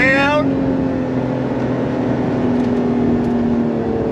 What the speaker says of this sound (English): You can actually hear some of the supercharger whine